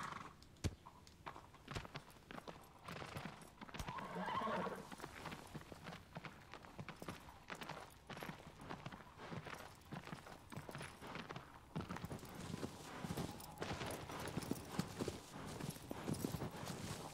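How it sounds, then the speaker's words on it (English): A horse's hooves clip-clop steadily in Shadow of the Colossus with an occasional neigh, faint and rhythmic under quiet game ambience. "Would you stop getting off the damn horse?"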